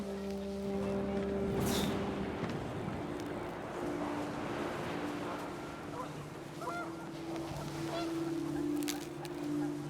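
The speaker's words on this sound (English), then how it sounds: "The wind picked up, and panicked geese appeared and quickly went." Panicked geese honking in What Remains of Edith Finch, several harsh calls scattered over a windy, rushing background, with a faint voice underneath.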